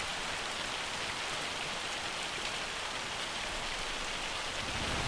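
Hail pelting down during a storm in Farming Simulator 25, a dense, steady broadband patter like heavy rain drumming on surfaces, constant and loud for the whole stretch with no pauses.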